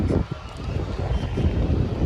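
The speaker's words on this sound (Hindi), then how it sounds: "भीनी भीनी हवा चल रही है।" A gentle breeze blows steadily across a riverside ghat in Rishikesh at sunrise, a soft continuous low rush of wind against the microphone with no voices.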